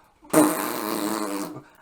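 A single loud, drawn-out fart lasting about a second, close and sputtering, with nothing else around it.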